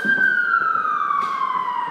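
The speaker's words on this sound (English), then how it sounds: "There have been so many sirens today, it's unreal." An emergency vehicle siren wails outside, one steady tone gliding slowly downward, loud and continuous throughout.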